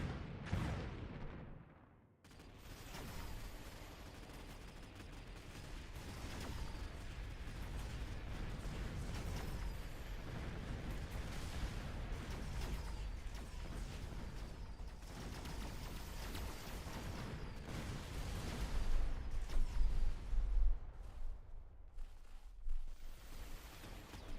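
Missiles launching and exploding in a real-time strategy game match, a dense, continuous barrage of booms and blasts sustained for over twenty seconds, swelling louder near the end with no talking.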